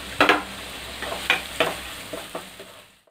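Chopped onions frying in hot oil for egg Maggi noodles, stirred with a handful of sharp scraping strokes over a light sizzle, close by, trailing off into quiet at the end, with no talking.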